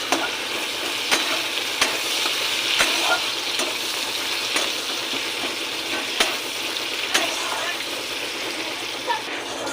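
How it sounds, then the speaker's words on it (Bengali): Chopped onions frying with cumin in a pan make a dense, bright sizzle heard up close, steady across the whole stretch, punctuated by periodic clicks and scrapes of stirring. "পেঁয়াজ কুচিটাকে ভালো করে ভেজে নেব"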